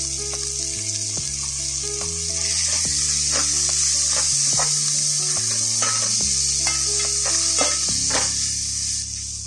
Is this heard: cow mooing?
no